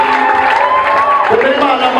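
Worshippers in a church service clap and cheer for God, a busy crowd roar with shouts and voices layered through the whole stretch.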